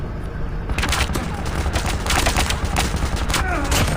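Rapid gunfire rattles through a Call of Duty Mobile match, loud dense bursts of shots firing almost continuously for several seconds, up close and dominating the mix.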